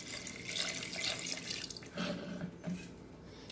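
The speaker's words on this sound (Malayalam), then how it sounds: "ഇനി നമുക്കിതൊക്കെ വെള്ളം ഒഴിച്ച് കൊടുക്കാം." Water is poured from a tap or vessel over goat tripe in a cooking pot, a faint, steady splashing trickle with brief gurgles, heard close with no talk.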